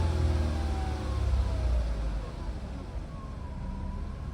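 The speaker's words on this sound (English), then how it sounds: "Let me just give it some gas real quick" A 2002 Ford Escape with a low idle and lean running condition is briefly given gas, producing a deep engine rumble that swells and then eases, with faint rising whine tones above it.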